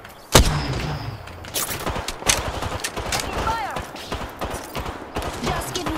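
Video game gunfire, a sharp loud shot followed by bursts of automatic fire and other combat effects, with game voice lines heard in between.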